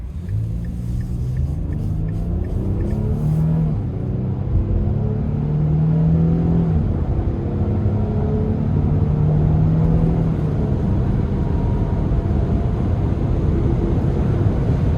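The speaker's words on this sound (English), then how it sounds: "I'm going to give it a pull getting on the interstate here." A 2026 Nissan Frontier S with a 3.8 V6 pulls onto an interstate under a firm throttle, its engine drone rising steadily in pitch beneath loud road and cabin rumble for the whole stretch.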